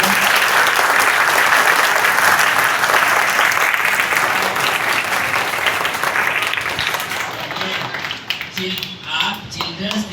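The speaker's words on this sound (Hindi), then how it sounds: "तो एक बार हमारे प्रधानमंत्री जी के लिए जोरदार ताली बजाइए।" Children at a Children's Day gathering clap loudly for the Prime Minister, a dense, sustained burst of applause that holds steady for several seconds before thinning out near the end.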